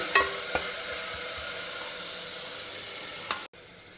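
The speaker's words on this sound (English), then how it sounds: "Stir fry the onion." Finely chopped onion stir-fries in a pot with a steady, close sizzle and a few clinks of stirring.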